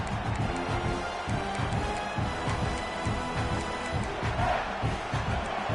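Steady roar of a football stadium crowd, a dense continuous wash of many voices with scattered shouts, loud and unbroken throughout.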